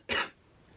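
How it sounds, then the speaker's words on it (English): A single short cough, close and fairly loud, followed by quiet room noise. "I'm gonna cough."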